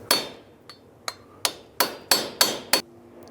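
Sharp metallic hammer blows on a metal hub cap of a 2003-2009 Toyota 4Runner front wheel hub ring out one after another, seven strikes at an uneven pace, each with a brief ringing decay.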